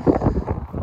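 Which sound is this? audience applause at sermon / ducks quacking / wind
wind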